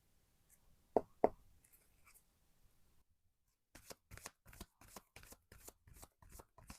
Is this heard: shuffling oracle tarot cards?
yes